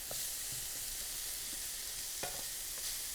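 Onions, garlic and spices sizzle steadily in hot oil in a pan, a dense, even crackle with a few soft stirring scrapes and taps over it.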